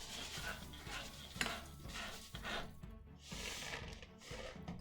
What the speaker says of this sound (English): But you keep stirring.